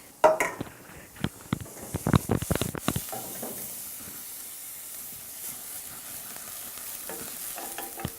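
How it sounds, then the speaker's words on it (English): Onions sautéing in a hot pan for orange-fleshed sweet potato cannelloni, a soft continuous sizzle with sharp clatters of stirring early on, then a steady faint frying hiss. "So we put in the onions, you sweat them or you saute them depending on the language of preference."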